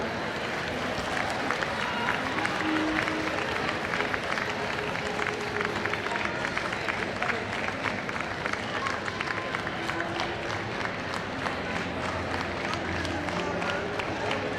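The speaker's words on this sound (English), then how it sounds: "And a round of applause for Sacramento Charter." Steady audience applause fills a hall at the Sacramento County Academic Decathlon Super Quiz, a continuous mid-level patter of many hands clapping, with crowd murmur mixed in throughout.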